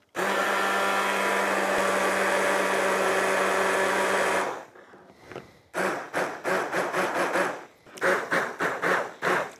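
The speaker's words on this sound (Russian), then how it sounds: "Все, можно остановиться с блендером." A blender whirs loudly and steadily for about four seconds, then runs in short, choppy pulses as it purees a hake soup.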